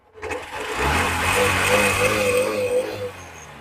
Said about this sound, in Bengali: গাড়ি এখন ইঞ্জিন স্টার্টে রয়েছে